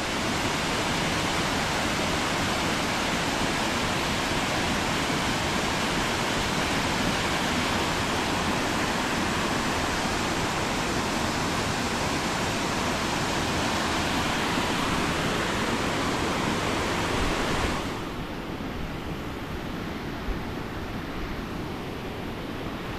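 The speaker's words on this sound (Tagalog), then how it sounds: "Ito pala oh, waterfall dyan." Mae Pan waterfall in a Chiang Mai forest roars as a steady, dense wash of rushing water, loud and close throughout, easing slightly near the end.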